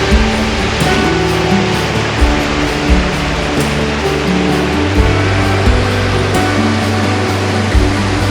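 A large waterfall in Wales roars with a steady, dense rush of falling water, loud and continuous from very near the edge, with no voices.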